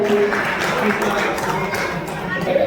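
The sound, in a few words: audience applause at a sangeet night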